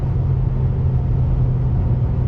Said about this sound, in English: So on throttle, still have it in sport mode, shifts are smooth.